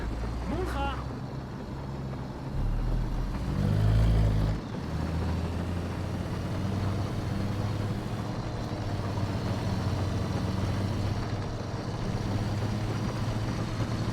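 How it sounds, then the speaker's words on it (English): A loud tank engine in the War Thunder video game drones steadily throughout, a deep rumble with a brief surge in the middle. "This engine is so loud"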